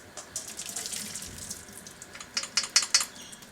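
Excess liquid from cooked tempeh being strained off over a sink, a steady running, splashing water sound with a few sharper clinks and splashes toward the end.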